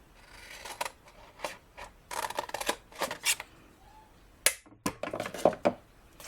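Scissors cutting card for a handmade floral box: repeated crisp snips and rasping strokes in uneven bursts, close and fairly loud, with short gaps between cuts.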